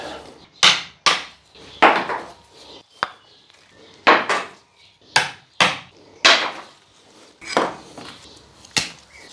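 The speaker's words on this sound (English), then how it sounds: "So I try to chisel it." Sharp wooden knocks of chiseling into a hornbeam bonsai trunk, about a dozen loud strikes in an uneven rhythm, each a crisp crack with a short splintery tail, close and alone.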